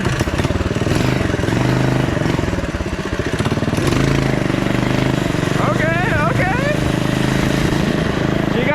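Off-road mini quad engine running steadily throughout a test drive, a loud continuous mid-pitched drone with some clatter, while people talk over it.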